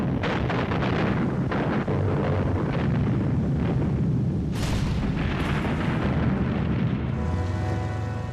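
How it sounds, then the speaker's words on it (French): Soviet WWII artillery barrage in archival film, a dense continuous rumble of overlapping booms and blasts, loud and sustained throughout with no voices. "les soviétiques déclenchent contre eux un intense barrage d'artillerie"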